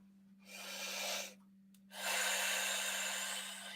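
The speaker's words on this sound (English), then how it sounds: "So I invite you to take a nice deep breath again." A slow, deep breath is drawn in and then let out, audible as two broad airy rushes separated by a short pause, close and soft over a faint steady hum.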